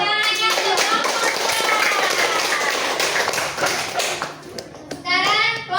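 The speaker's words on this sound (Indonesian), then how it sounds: "Tepuk tangannya untuk kelompok" A classroom of pupils clapping for a presenting group, quick brisk claps mixed with children's excited voices and chatter, fading toward the end before voices rise again.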